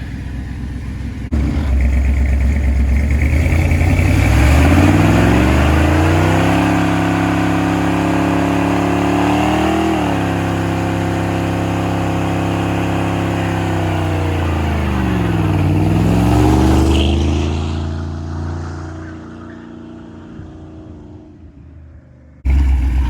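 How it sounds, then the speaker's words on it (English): A lowrider Ford F-150 pickup with a 302 V8 revs hard through a burnout, a loud sustained engine roar rising and dipping in pitch twice before the throttle lets off and it fades toward idle, ending with a sharp thump. "we're gonna go do a quick burnout, last burnout with this engine in the truck"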